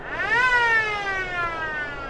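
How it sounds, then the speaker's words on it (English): A short electronic siren on a SEMA show off-road truck gives one brief rising whoop that then holds a steady, slowly falling wail, loud and close, with no talking. "And then we've got a quick little siren."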